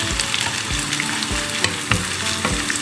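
Onions sautéing in a pan, a continuous bright sizzle broken by several rhythmic stirring scrapes, close and even in level with no talking.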